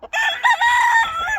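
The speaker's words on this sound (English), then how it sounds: "This is the other new rooster." A newly acquired backyard rooster crows once, a single loud, close, drawn-out call lasting over a second with no talk.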